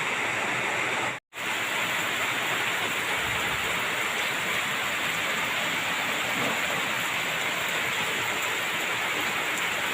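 Steady rain pours down in a dense, continuous hiss, broken only by a brief moment of silence near the start.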